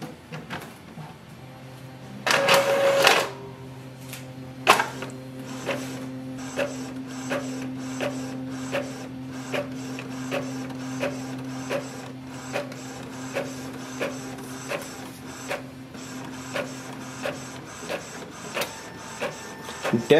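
Epson ET 2400 ink-tank printer making a copy after a nozzle power cleaning: a mechanical whirring start, then a steady motor hum with regular ticking clicks of the print head passing back and forth, close and alone.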